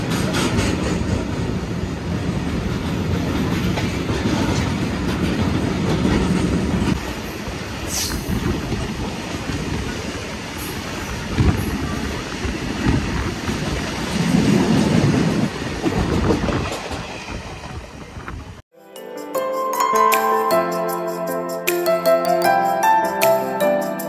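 A train runs along the Amritsar to Ambala Cantt line, a loud, close, steady rumble of wheels and carriages with rail clatter, turning into sharp rhythmic clicking near the end.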